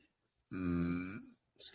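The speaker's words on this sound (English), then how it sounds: "It ain't no show unless I burp." A single long, loud burp lasting under a second, with a deep voiced rumble, heard alone during a casual sports banter show with no talk over it.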